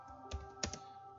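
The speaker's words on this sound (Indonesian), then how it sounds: "Kita coba dengan mengetik" A few crisp keystrokes on a computer keyboard, with two or three distinct clicks against quiet room hum, while entering a question into an online form.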